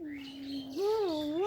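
A dove calling outdoors near a child: a short, close tonal call that holds steady, then rises and wavers in a smooth coo-like phrase.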